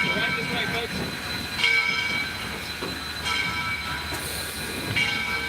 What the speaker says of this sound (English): Doing a quick run around of the train here